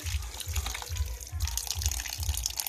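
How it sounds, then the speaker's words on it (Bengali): Water runs steadily from a tap over a sink while fish, including small mourala fish, are washed by hand in a home kitchen, with a rhythmic low churning from the handling repeating throughout. "এবারে মাছগুলো ধুয়ে নিচ্ছি"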